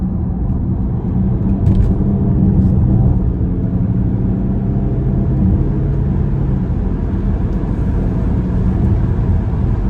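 A Range Rover Sport accelerating hard on an open road, heard as a steady, loud low engine and road rumble that holds throughout with only slight swells, no voices over it.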